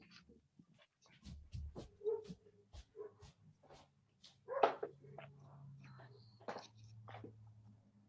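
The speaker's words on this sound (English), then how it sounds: "crazy ass dogs in the neighborhood" Neighborhood dogs bark in scattered bursts, fairly distant, with whimpers and panting mixed in, while people talk over them.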